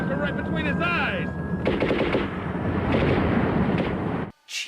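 Rapid automatic gunfire in a film scene crackles in sustained bursts, joined by a loud shouting voice near the start, then cuts off abruptly before a brief final burst.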